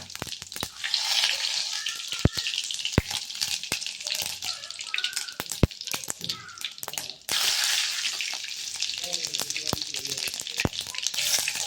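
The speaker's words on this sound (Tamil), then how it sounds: "கடுகு ஜீரகம் பொரிச்சுட்டு கருவேப்பிலை போட்டுக்கிறோம்." Mustard seeds and cumin spluttering in hot oil for egg podimas, a close, steady sizzle with sharp sporadic pops and crackles throughout.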